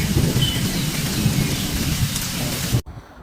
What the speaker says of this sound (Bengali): প্রচণ্ড ঝড় বৃষ্টির মাঝে ঠাডা সম্রাটের ধারণ দিয়েছিল